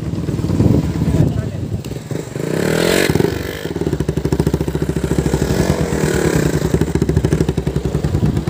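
Bajaj Pulsar 220F motorcycle engine revved hard nearby, loud rising and falling throttle blips with a rapid rhythmic putter in between, with voices talking over it.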